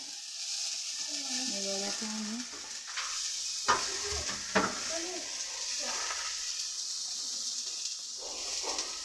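Food sizzles steadily in a hot pan, with a couple of sharp clinks of a utensil and some faint tonal sounds early on.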